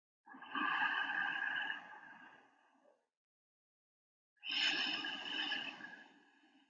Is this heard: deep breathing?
yes